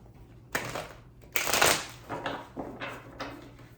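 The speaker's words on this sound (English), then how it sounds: "Let me get 3 more shuffles" Tarot cards being shuffled in several quick riffling bursts, close and crisp, with short pauses between them and no speech.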